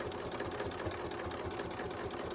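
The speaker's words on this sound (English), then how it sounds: "and then stitch off to the end" Fast, even rattle of a domestic sewing machine running a straight seam on a lapped zip in a cushion back, a close, steady mechanical chatter with no pauses and no voices.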